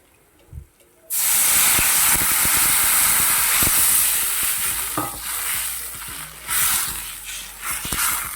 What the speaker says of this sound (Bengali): তো হালকা হালকা বাজা করে নিচ্ছি বেশি না